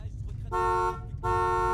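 A car horn honks twice in Paris traffic, two sustained tonal blasts of about half a second each, loud and close, separated by a short gap filled with low street rumble.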